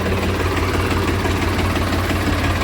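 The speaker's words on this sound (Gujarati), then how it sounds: "પાછું આપણે ટ્રેક્ટર શરૂ કરી દઈએ" A diesel tractor engine idles close by during sowing work, a loud steady low rumble with an even rapid throb and no pauses or voices.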